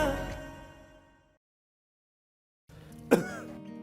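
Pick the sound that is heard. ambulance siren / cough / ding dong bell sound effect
cough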